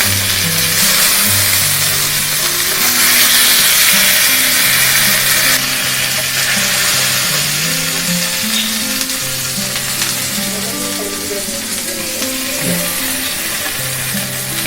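Beef steak sizzles steadily in a hot pan, a loud continuous frying hiss with crackling spatter and occasional scraping or stirring, no voices over it.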